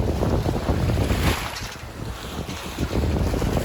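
Wind buffets a microphone aboard a sailboat on open water in good sailing conditions, a steady rushing roar with splashing waves underneath, close and continuous.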